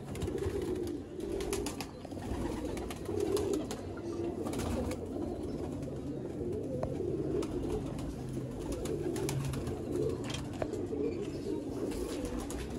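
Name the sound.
red-eyed pigeons cooing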